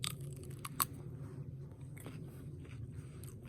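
Someone eats fresh cucumber with salt in a Russian countryside kitchen, with close, wet crunching bites and chewing throughout under low background noise.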